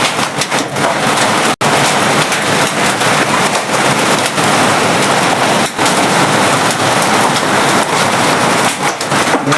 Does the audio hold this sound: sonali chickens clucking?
no